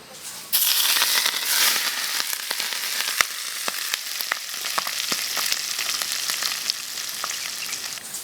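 Hot chili oil poured over dried red chilies and Sichuan peppercorns bursts into a loud, sudden sizzle, then settles into a dense crackling hiss with sharp pops, close and continuous.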